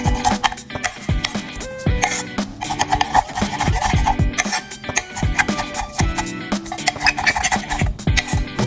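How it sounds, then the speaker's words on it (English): Onions chopped finely with a knife for chicken tikka masala, producing a dense run of rapid, close knife strikes against the board with no talking. "chop some onions really small"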